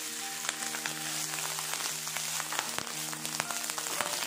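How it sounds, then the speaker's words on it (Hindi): Cooked rice added to a pan of roasted cumin seeds, giving a steady, close, crackling sizzle with scattered sharp pops. A faint hum runs underneath. "ज़ीरा भुन गया है, अब इसमें हम ये चावल डालेंगे।"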